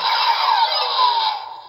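A DX Zero-Three Progrise Key toy slotted into its Kamen Rider driver unit gives off a loud, sustained, bright electronic whine that holds steady before tapering off, with nobody talking.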